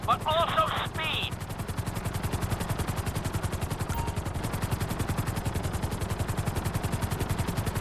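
A helicopter in GTA V flies with loud, rapid rotor chopping that runs in a steady rhythmic pulse from start to finish, close and dominant, with a brief voice over it at the very beginning.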